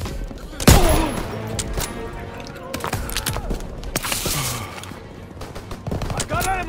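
Battlefield combat in the video game Call of Duty WW2, with a sharp loud gunshot followed by steady bursts of rifle and machine-gun fire, scattered impacts and distant shouting voices.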